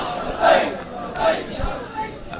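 A large crowd chants the Labbaik slogan at a religious rally, with voices rising in rhythmic, roaring surges roughly every second, filling the space as one dense mass.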